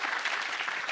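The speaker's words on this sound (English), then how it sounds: "let's give him a round of applause." An audience at a gala dinner applauds, a dense, steady wash of clapping from many hands filling the room for about a second.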